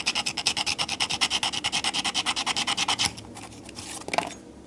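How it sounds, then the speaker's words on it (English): A burr is filed down on a Cybergun Sig Sauer P226 gas blowback airsoft pistol part in a fast, even series of about twenty close rasping strokes, followed by a brief pause and a small clatter. "I'm just going to file that down."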